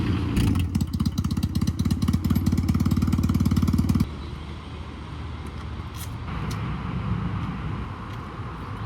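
A motorcycle fitted with pannier bags idles loudly with a rapid, chugging engine pulse for several seconds, then the sound drops as it rides off, leaving a softer, steadier engine and road rumble.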